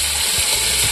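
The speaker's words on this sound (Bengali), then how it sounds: "ওইদিকে তেলটাও গরম হয়ে গেছে। হলুদ দিয়ে দিলাম" Turmeric tipped into hot oil for a liver dish crackles in a dense, steady sizzle across the whole short moment, close and fairly loud with a faint clicking texture and no voices.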